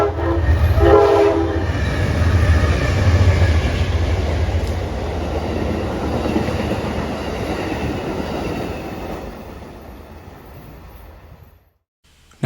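Amtrak train 449 rolling past near Grafton, loud horn blasts at the start over a heavy rumble of locomotive and railcars that gradually fades into the distance, ending in near silence.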